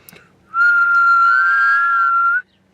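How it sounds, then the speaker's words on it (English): A person whistles one sustained, steady tone for about two seconds, clear and close with a slight rise in the middle, in an otherwise quiet room. "Can you whistle?"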